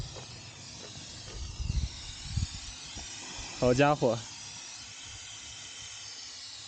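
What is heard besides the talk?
steam hissing from overheated car radiator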